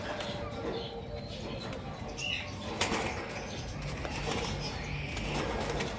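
Wing flaps of a pigeon of a pure breed, a few brief flutters in the middle of a noisy outdoor setting with steady background hum.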